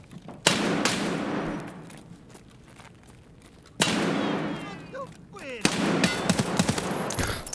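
SA-58 rifle fire in a shooter video game: three loud, abrupt bursts of gunshots with ringing decay, separated by quieter stretches.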